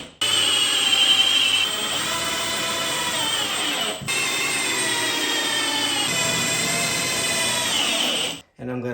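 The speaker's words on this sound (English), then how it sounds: "So now I'm going to screw this down to here. I'm going to screw all this into here all the way around." A power drill drives 3.5 inch Deckmate coated star drive screws down into a bathroom subfloor, making a loud, sustained whining motor drone close by, broken briefly mid-run and cut off near the end.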